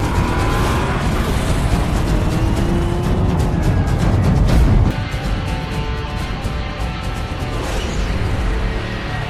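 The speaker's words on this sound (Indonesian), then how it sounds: "mengambil setir miliknya untuk membawa mobil perang mengejar Furiosa" Modified war cars from the Mad Max: Fury Road film roar in a loud, continuous chase, with engines racing, tires squealing and vehicles passing, the din dropping slightly midway but staying dense throughout.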